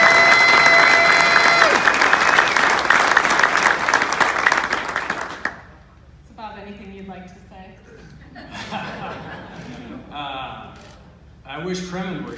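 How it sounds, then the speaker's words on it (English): Audience applause for honoree Bob George at an awards event, a loud dense wash of clapping for about five seconds that cuts off abruptly, followed by a speaking voice with light laughter. "So big round of applause for this remarkable honoree"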